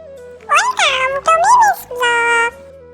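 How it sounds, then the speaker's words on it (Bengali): A kitten meows up close in several rising and falling cries, clear and loud in quick succession, with no other sound around them. "আজকের ভিডিওতে আমি দেখাবো আমার কিউট বেড়াল ছানা অর্থাৎ মিমিকে আমি কি খাওয়াই"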